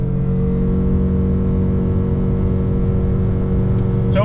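A Ford Maverick XL Hybrid's 2.5-liter inline-four, run through a CVT in sport mode, holds a steady, loud drone at full throttle with no shifts, the pitch staying nearly constant throughout.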